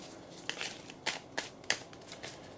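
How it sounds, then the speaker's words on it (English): Whispering Woods oracle deck cards shuffled by hand, giving a series of crisp riffling bursts and soft papery slaps at uneven intervals, close and fairly quiet with no talking. "We're going to shuffle."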